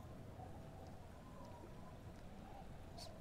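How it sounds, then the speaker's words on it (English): Steady, soft rain falls in the video game Disco Elysium, a faint continuous hiss with occasional brighter drop ticks, heard alone at low level throughout. "It's raining."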